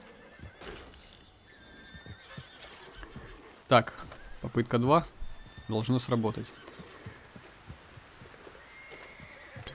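A horse whinnies several times in Red Dead Redemption 2, loud rising and falling neighs over soft background ambience, with someone talking before and around them.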